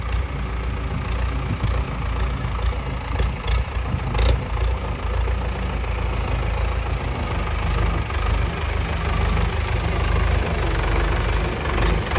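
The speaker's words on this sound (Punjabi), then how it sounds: "ਆਪਣਾ ਟਰੈਕਟਰ ਵੀ ਆ ਗਿਆ ਵਾ" A tractor idles nearby with a steady low, rumbling chug. The loud, even drone holds for about twelve seconds and carries a faint knocking undertone.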